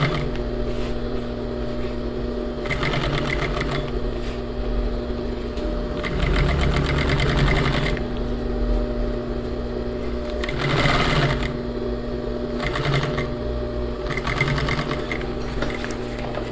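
A sewing machine stitches a flared skirt, running in several bursts of rapid, steady mechanical whirring with brief pauses between them, close and fairly loud over a constant low hum.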